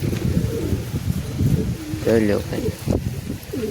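Domestic pigeons coo in low, throaty rolling phrases close by, mixed with someone talking over them and some rustling.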